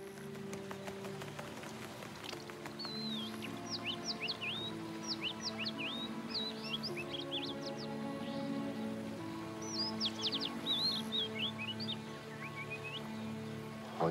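Birds let loose as a signal chirp in quick, scattered bursts of short rising tweets, fairly faint, over a sustained background score with no talking.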